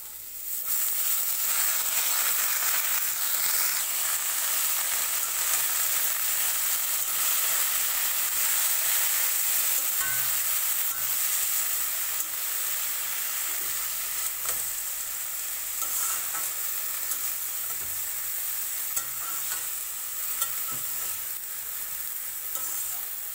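Ulka greens added to potato and eggplant frying in a pan give a loud, continuous sizzle with a steady hiss. Faint stirring scrapes sound now and then beneath it.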